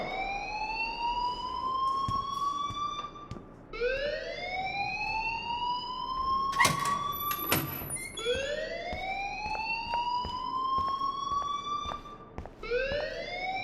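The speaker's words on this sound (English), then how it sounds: "please turn off that alarm since that's your job" A repeating rising whoop alarm in the video game Life Is Strange: loud siren-like sweeps climb in pitch about every three and a half seconds and run continuously, with no talking.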